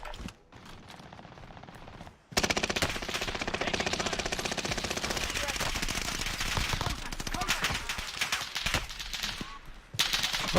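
Sustained automatic gunfire in Call of Duty: Warzone, loud bursts of rapid shots running almost continuously after a quieter opening, with a brief lull near the end before firing resumes.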